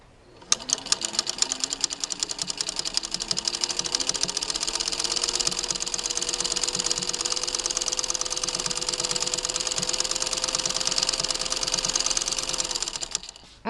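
A Singer 15-91 sewing machine fitted with a flower foot stitches in one long, steady run, its rapid mechanical chatter rising in pitch as it speeds up, then holding even until it stops.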